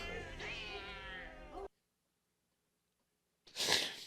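A cat gives a long, drawn-out meow from inside a bag, then silence, then a short, harsh hiss or sneeze-like burst.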